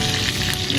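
Chicken breast shallow-frying in oil for crispy katsu, a steady dense sizzle and crackle filling the whole moment, loud and close with no voices.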